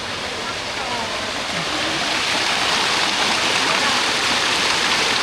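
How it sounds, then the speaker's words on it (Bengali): A waterfall in Feni, near the India border, pours with a loud, unbroken rushing roar that holds steady from start to finish. "এই হচ্ছে ঝর্ণা ঝর্ণাটা সুন্দর"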